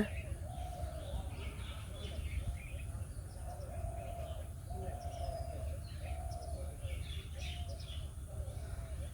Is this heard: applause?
no